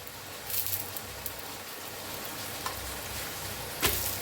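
A paneer roll frying in oil on a pan on a cold day, giving a soft, steady sizzle with a few faint clinks and scrapes, quiet and close with no talking.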